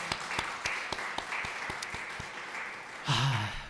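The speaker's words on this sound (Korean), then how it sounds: "다시 한번 박수 하나님께." A church congregation at a Korean Sunday worship service applauds, with brisk, fairly quiet clapping that rises briefly near the end as a voice begins to speak.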